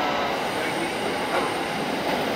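A crowded train runs in Japan with a steady, loud rumble of wheels and carriage noise throughout, carrying a faint high squeal.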